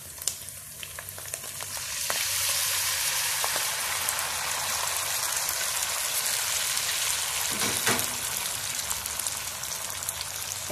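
Tamarind water mixed with a little water poured into hot chili paste in a pan for sambal with egg, setting off a loud, steady frying sizzle that swells after a couple of seconds and holds throughout, close and without talk.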